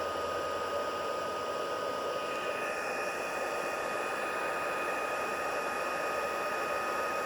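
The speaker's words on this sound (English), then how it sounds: "I'm going to come in with my heat tool. There'll be a tiny bit of a noise." A heat tool runs steadily throughout, melting embossing powder on a greeting card, giving a constant airy hiss and whir at moderate level with no talking.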